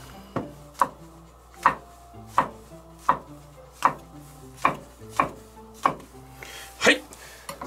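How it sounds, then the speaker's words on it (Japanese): Knife chopping mushrooms on a cutting board while cooking a French dish: about ten crisp, evenly spaced chops in a steady rhythm, close and clear with no talking. "なんかマッシュルームって切りにくいな。"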